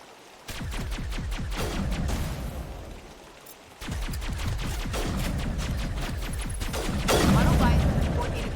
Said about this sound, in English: Oh, it's literally a pulse rifle.